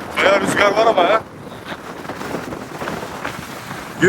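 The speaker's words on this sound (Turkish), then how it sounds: "Bayağı rüzgar var ama ya." Strong wind gusting across the microphone in a low, rough rumble after a short burst of talking, at Kilitbahir fortress on the Dardanelles.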